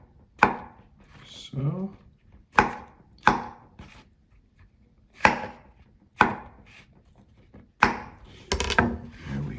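A knife chops vegetables in half on a cutting board for roasting, about nine sharp, close knocks at an uneven pace, each with a short crunch, while a voice briefly speaks between the cuts.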